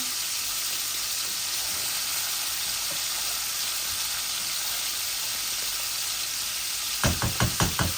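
Three koi fish frying in hot oil give off a steady, broad sizzle throughout, with a quick run of five sharp knocks near the end, likely a utensil against the pan.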